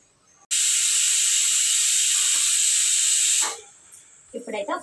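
A pressure cooker whistle cooking dal blasts out loud and steady for about three seconds, then cuts off into quieter kitchen clatter.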